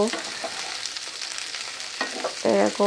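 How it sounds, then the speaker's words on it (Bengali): Flat beans (shim) frying in a pan, a steady sizzle with stirring clatter that grows louder toward the end, with a brief spoken word. "আমি শিমটা সুন্দর করে ভাজবো"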